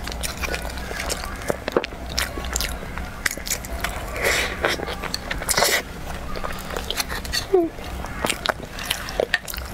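Biting and chewing into a pastry filled with salted egg yolk, close and crisp, with repeated crunchy bites and soft squishy chewing in an irregular rhythm, no talking.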